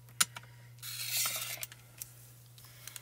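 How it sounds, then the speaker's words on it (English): A rotary paper trimmer slides its blade across a sheet of craft foil for toner foiling: a sharp click, then about a second of close, soft rasping swish over a steady low hum, followed by a few light taps. "And I use a rotary trimmer."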